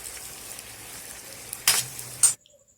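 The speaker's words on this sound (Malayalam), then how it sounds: "ഇനി ഇതിലേക്ക് ഒരു വലിയ 2 സവാള ഇതുപോലെ നേർങ്ങനെ അരിഞ്ഞത് ചേർത്ത് കൊടുക്കാം. എന്നിട്ട് നല്ലോണം ഒന്ന് വഴറ്റിയെടുക്കാം." Thinly sliced onions sauté in a pan for Thalassery biryani, giving a soft, steady sizzle with two brief louder bursts of stirring before the sound cuts off abruptly; no talking.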